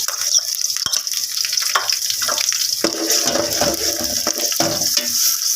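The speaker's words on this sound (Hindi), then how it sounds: "अच्छी तरह से मिक्स कर लो ताकि ये ब्राउन हो जाए।" Fried onions and garlic paste being stirred in a pan for kaleji matar masala, with steady hissing sizzle and repeated scraping, clattering strokes of the spoon throughout, close and fairly loud, no talking.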